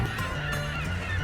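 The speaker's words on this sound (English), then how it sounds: "Look at those birds working over there." Birds honking over an Alaska lake, a dense, continuous chorus of goose-like calls layered over steady background noise without any speech.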